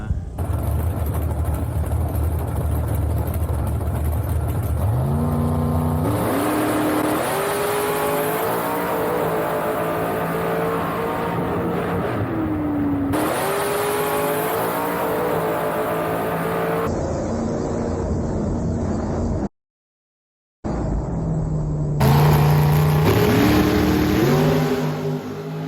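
A drag race car makes a full pass down the strip in Super Pro racing, its engine screaming loud and sustained, climbing in pitch through gear changes, with a brief dropout near the end before it roars again.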